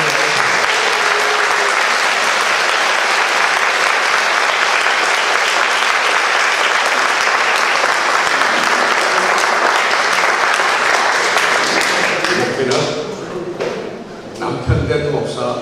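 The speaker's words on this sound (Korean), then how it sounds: "뜨거운 박수." Warm applause from a church summer retreat congregation welcoming a guest pastor's wife, loud and sustained for about twelve seconds before thinning into scattered claps and a brief lull.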